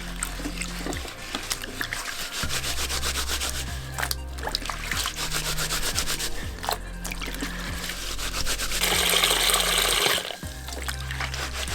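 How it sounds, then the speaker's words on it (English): A pair of hiking boots rubbed together in warm water gives a continuous scrubbing, rasping friction with watery swishes, close and moderately loud. "then just rub them against each other"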